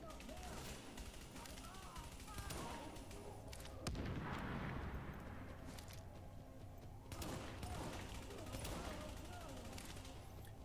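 Gunfire in the shooter game Tom Clancy's The Division crackles in repeated bursts and single shots, with a heavier blast midway, under a player's quiet talk.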